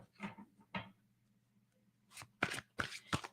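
Quiet riffling and snapping of a card deck being shuffled in several short bursts, separated by pauses, over a faint low hum.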